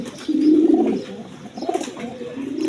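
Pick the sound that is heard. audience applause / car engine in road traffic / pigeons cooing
pigeons cooing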